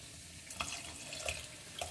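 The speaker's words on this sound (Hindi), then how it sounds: "सो फॉर दैट पर्पस मैं थोड़ा और पानी डालूँगी इसमें।" Water poured into a thickening vegetable manchurian gravy in a home kitchen, a soft steady liquid wash with a few brief splashy bursts, fairly quiet and close, no talking.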